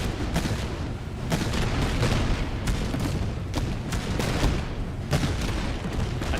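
Grenade blasts and dense rifle fire crackle nonstop in the Master of Command battle game, with sharp volleys and booms overlapping in a thick, loud barrage.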